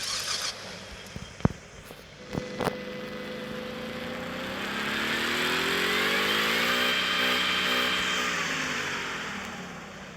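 A Ford F-150 Raptor engine on a dyno rises from a low idle into a long, steady rev that holds and climbs in pitch, loud and close, after a few sharp clicks and knocks at the start.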